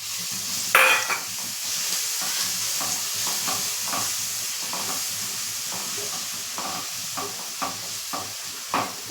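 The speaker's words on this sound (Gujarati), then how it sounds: "આપણે જે આ લસણની પેસ્ટ તૈયાર કરી છે તે તેલમાં એડ કરીશું" Garlic paste fries in hot oil for a garlic mango pickle, making a steady sizzle broken by scraping stirs and small clinks. It stays close and fairly loud with no talking.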